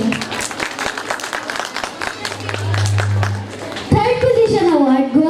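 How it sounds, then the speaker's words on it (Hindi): An audience at a Quran study award ceremony claps in a busy stream of crisp hand claps, which gives way near the end to a louder tonal voice over the hall. "भरपूर तालियों के साथ इनकी हौसला अफजाई कीजिए।"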